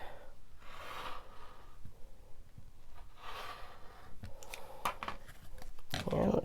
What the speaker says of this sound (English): Once you know that you're aligned in the right place, continue cutting.